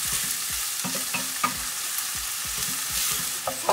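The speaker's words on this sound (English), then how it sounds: "We're going to heat up 2 tablespoons of olive oil, 1/2 cup of chopped onion, as well as 1/4 cup of green pepper." Chopped onion and green pepper fry in hot olive oil in a pan, a steady close sizzle broken by repeated scraping knocks of a utensil stirring the vegetables.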